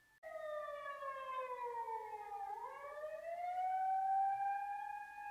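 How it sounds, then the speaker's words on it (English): An ambulance siren sounds outside in a steady, loud wail that sweeps down in pitch and then rises again, heard alone with no talk over it. "I hear ambulance outside."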